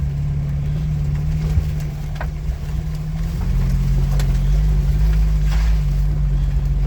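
A car drives on a dirt forest road, National Forest Road 540C, giving a steady, loud, close engine drone with low rumble and faint rattles throughout; no one speaks.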